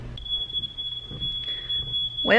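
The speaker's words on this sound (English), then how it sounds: "that's a smoke alarm." A smoke alarm, set off by circular-saw dust, sounds one continuous, piercing high tone that holds for about two seconds, with low rumbling noise underneath and a brief voice at the end.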